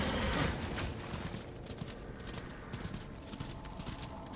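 Horse hooves clip-clop steadily in the video game Darksiders, a continuous fast rhythm of hoof falls under a dense game soundscape, moderately loud throughout.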